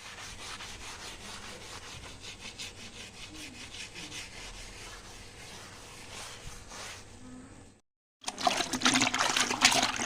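Pen marks are scrubbed off a painted wall in steady, close rubbing strokes. The sound cuts out briefly near the end, then returns louder and harsher.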